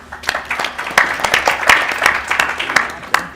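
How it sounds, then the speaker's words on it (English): Scattered applause from a small audience at a healthcare summit, a few hands clapping unevenly with crisp individual claps standing out, while murmured voices carry underneath. "Please give them a round of applause"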